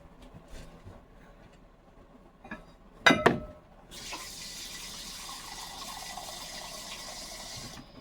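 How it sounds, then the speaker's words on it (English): Water runs from a tap into a crock pot holding scalloped potatoes, a steady hiss of pouring after a few clinks and a sharp knock, fairly quiet and with no talking. "now I'm gonna put some water in it"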